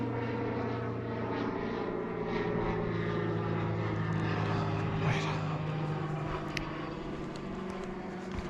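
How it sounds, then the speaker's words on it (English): Twin-engine propeller aeroplane flying overhead, a steady droning hum with layered tonal engine notes, moderately distant and fairly faint, with a few faint clicks and rustles nearby. "Aeroplane, twin engine."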